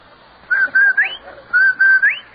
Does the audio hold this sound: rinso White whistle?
yes